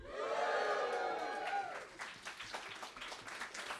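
A comedy club audience bursts into a loud cheer that fades into scattered clapping and crowd noise, heard at moderate distance.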